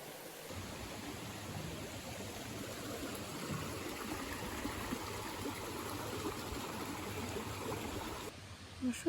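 A small stream at a trail water crossing gurgles and rushes steadily nearby, a soft continuous wash of flowing water that cuts off near the end.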